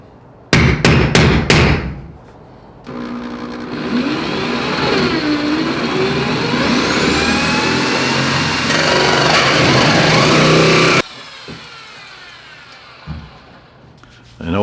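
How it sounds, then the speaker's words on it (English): A hole saw bites into a metal panel with a steady, loud grinding whine for about eight seconds, bracketed by sharp taps and a brief starting burst, cutting a circular pass-through hole for a shop air-conditioner install. "So I cut this circular hole in the panel,"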